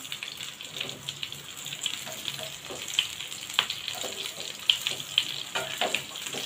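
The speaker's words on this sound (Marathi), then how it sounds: "स्लो गॅसवरच वांगी फ्राय करून घ्या" Brinjal pieces frying in masala in a pan over a low gas flame, making a soft, quiet sizzle broken by small crackles and faint clinks of stirring, with no voices.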